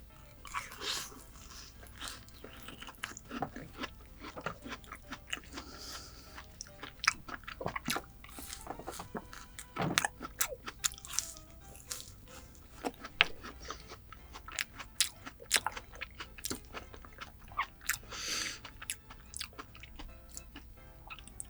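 Close-up eating of Vietnamese gac fruit drizzled with honey, with repeated soft bites, wet chewing and occasional crunchy clicks in an uneven rhythm throughout, quiet and intimate with no speech.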